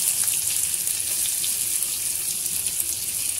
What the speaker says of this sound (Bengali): ডিমগুলো হালকা ভেজে নিচ্ছি